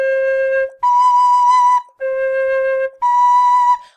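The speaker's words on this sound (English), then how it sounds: "The bell note and the crossfinger notes are strong on the C whistles as well." Clear Killarney C tin whistle playing four sustained notes, alternating lower and higher pitches, each held about a second with brief gaps, bright and close.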